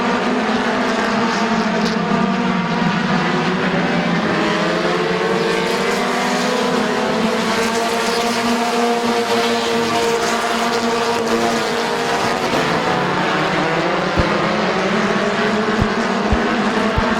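Race cars roaring around Midvale Speedway during the 2018 Fall Classic, a loud continuous engine drone with rising and falling pitch sweeps as cars pass and race side by side.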